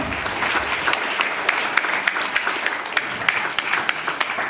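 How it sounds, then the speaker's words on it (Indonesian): An audience at a seminary anniversary talk show applauds five panel speakers, a steady wash of clapping with a few sharper individual claps standing out, sustained at an even level throughout. "Boleh tepuk tangan untuk kelima narasumber kita"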